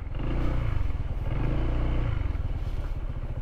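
Loud, continuous engine rumble from several motorcycles, including dirt bikes, idling and revving nearby, a dense steady drone with clattering over it.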